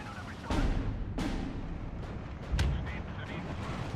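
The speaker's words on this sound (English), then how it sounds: "I can also bring in the Verflammens to just rocket this." Rocket artillery in the World War II strategy game Steel Division 2 booms in several heavy blasts over a rumbling battle backdrop, moderately loud.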